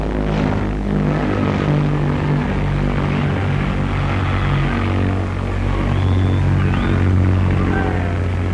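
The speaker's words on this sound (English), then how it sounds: "The 100-seater airliner came over at really low level" The Bristol Brabazon, a 130-ton, 100-seat airliner, passes overhead at low level at an air show, its engine roar a steady, loud drone with strong low harmonics throughout.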